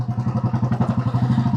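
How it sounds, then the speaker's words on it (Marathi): A Royal Enfield Electra single-cylinder motorcycle idling up close, giving a loud, even, rapid thumping beat with a slight metallic clatter and no talk. "माझ्याकडे ही रॉयल एनफिल्ड इलेक्ट्रा आहे."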